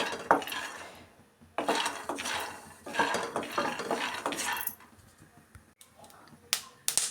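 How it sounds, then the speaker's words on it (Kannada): Peanuts roasting in a pan for mint chutney are stirred, with scraping and clattering of the utensil against the pan in uneven bursts and gentle rattles, close-up and moderately loud. "ನಾವು ಗರಿ ಆಗೋ ತನಕ ನಾವು ಕಡಲೆ ಬೀಜನ ಹುರ್ಕೊಬೇಕು"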